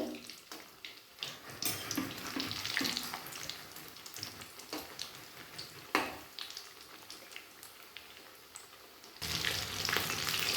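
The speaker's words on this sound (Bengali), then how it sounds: "এরপর নাড়াচাড়া করে উল্টে পাল্টে দুই সাইড ভেজে নেব হালকা ব্রাউন করে।" Egg chops frying in hot oil and being turned, giving a continuous near crackling sizzle with intermittent utensil clatters and a louder burst of sizzling toward the end, without voices.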